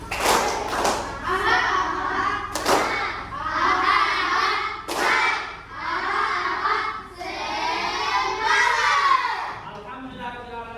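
A classroom of children doing a rhythmic spirit clap, with sharp bursts of synchronized clapping and thumps alternating with loud chanted shouts, repeated in several energetic cycles that end in a brief pause.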